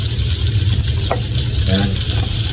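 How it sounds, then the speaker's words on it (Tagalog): Garlic and onion sauté in a little oil with a loud, close, steady sizzle and hiss. A brief scrape and faint knocking sound partway through. "Igisa natin ng bawang at saka sibuyas."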